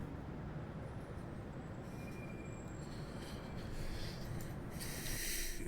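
A Class 68 diesel locomotive in Train Simulator Classic runs along steadily, a continuous loud rumble of wheels and engine with faint high squeals and hiss rising near the end, no voices.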